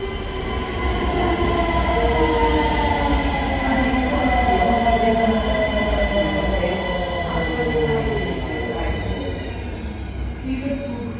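An OBB City Jet train runs through Vienna, a continuous loud rail roar with rising and falling wheel and motor whines and faint squeals, steady throughout.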